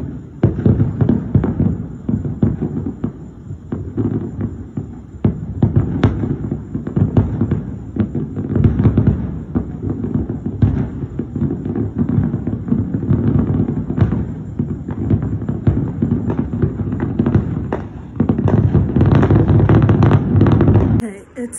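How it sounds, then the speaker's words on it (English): Fourth of July fireworks explode outdoors after 10 p.m. in a dense, continuous barrage of loud cracks and booms with no real pause, and the blasts grow heavier near the end. "I don't know if the fireworks are done."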